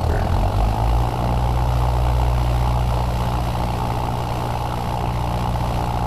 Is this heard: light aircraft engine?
yes